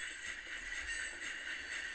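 A video game train rumbles along steadily with a continuous hiss and faint rhythmic clatter, sounding somewhat synthetic and even, at a low, distant level.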